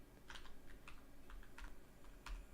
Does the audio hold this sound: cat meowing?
no